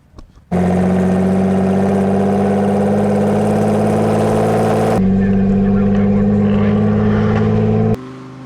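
A motorboat engine drones loud and close at Hot Rod Drag Week. The steady, even hum starts abruptly, changes slightly partway through, then drops away near the end.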